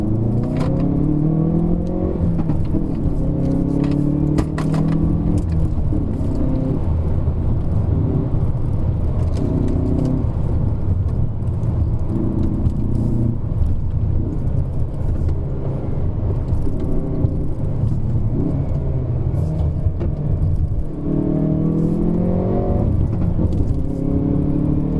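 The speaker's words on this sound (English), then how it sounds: "So actually inside the car the sound is quite muted, but outside the car you can hear the crack and pop." Hyundai i30 N hot hatch driving up the Genting hillclimb road, its engine a steady muted drone heard from inside the cabin, with rising and falling pitch as it revs through gears, continuous and fairly loud.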